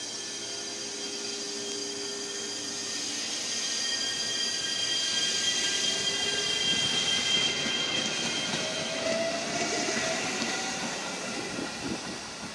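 An up local train pulls away from a Japanese station, its rumble and motor whine swelling steadily over several seconds, then easing off as it moves away.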